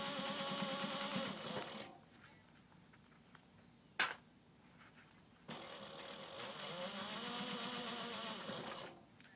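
A sewing machine stitches a fabric clutch seam in two steady close runs, buzzing whirs separated by a pause while the sewer slows at a corner, with one sharp click between them.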